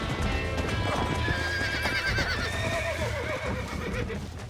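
A horse whinnies repeatedly over steady clip-clopping hooves in the game Red Dead Redemption, with a dense, loud game-style soundscape throughout.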